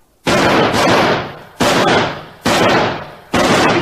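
Four heavy rifle shots in a radio drama, each a loud abrupt blast with a long rolling decay, spaced about a second apart.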